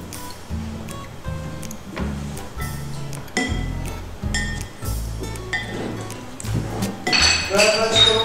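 Utensils clink repeatedly against a dish while stirring a tomato basket filling with olives, sharp metallic taps scattered throughout and a brighter cluster near the end, over faint background noise.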